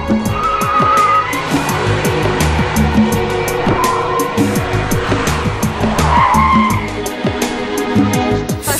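Car tires squealing and skidding on a test circuit during a quick swerve with electronic stability control working, loud and continuous with engine noise underneath.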